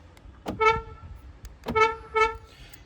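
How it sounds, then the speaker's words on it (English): A 2026 Hyundai Exter's horn gives short honks in two groups as the remote key fob locks and unlocks it, each preceded by a click, loud and close, with no talking. "You can hear this car honking every time you press the lock and unlock button"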